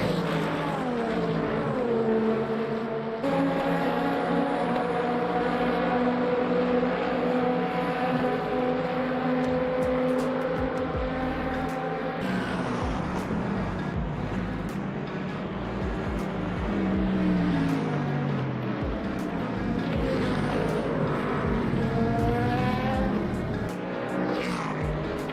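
Race car engines in the racing game Le Mans Ultimate, a continuous loud engine drone with rising and falling pitch as cars shift and pass, steady throughout.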